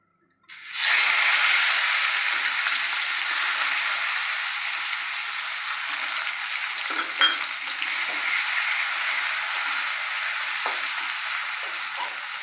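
Onion, tomato and green chilli with a little salt hit hot oil with a sudden loud sizzle that holds steady and slowly softens, with occasional stirring knocks.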